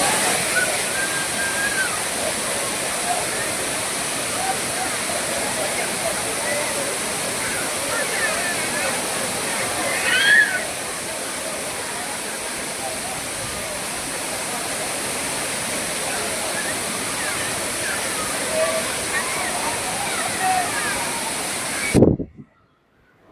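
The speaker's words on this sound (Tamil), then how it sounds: "5 ஃபால்ஸ் பாருங்க, தண்ணி எப்படி விழுதுன்னு பாருங்க" Steady broadband roar of water pouring down the Five Falls at Courtallam, continuous and full throughout, with a brief faint sound partway through, then cutting off at the end.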